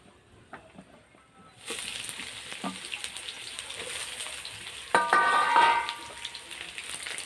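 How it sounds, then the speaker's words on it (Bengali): Mixed vegetables for Bengali shukto fry together in hot oil, a bright steady sizzle that begins abruptly after near silence and swells louder for a moment midway as they are stirred. "এবার আমি বাকি সবজিগুলো একসাথে ভেজে নেব।"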